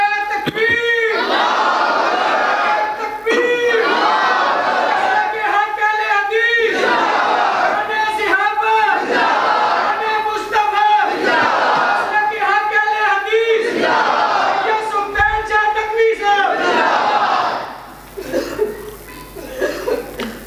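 A large crowd at an Islamic religious gathering shouts Allahu Akbar in loud, rhythmic unison bursts answering the Nara-e-Takbir call, repeating several times with short gaps before fading near the end.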